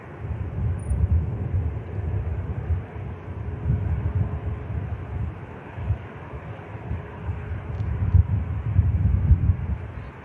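An EasyJet airliner takes off at Manchester Airport, a distant muffled rumbling roar that rises and falls in gusty low-pitched waves, fairly faint with no voices.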